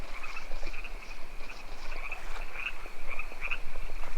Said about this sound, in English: those crickets are super loud